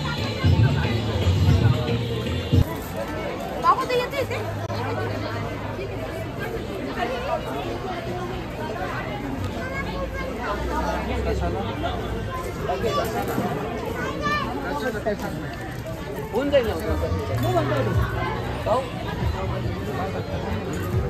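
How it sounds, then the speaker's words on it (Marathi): Busy Sunday crowd at an outdoor eatery with a children's play area in Nashik: continuous, dense chatter of many voices mixed with children's calls, steady and close all the way through. "गर्दी बघू शकतो मित्रांनो."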